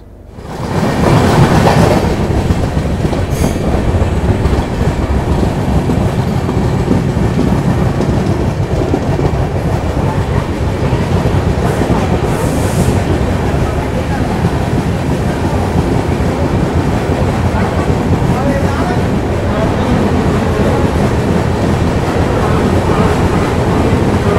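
Pune–Amravati express train running on the rails, a loud continuous rumble with steady rattling and clatter of the carriages, heard from inside throughout, with no pauses.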